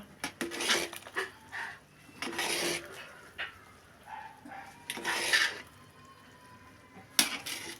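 Powder being mixed into boondi for a two-kilogram batch of boondi laddu in a large vessel: irregular bursts of scraping and rubbing from utensil and hands, with short pauses between strokes.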